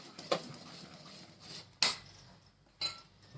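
A spoon beats dhokla batter of chana dal and rice in a bowl, producing a few faint, irregular metallic clinks and taps against the quiet.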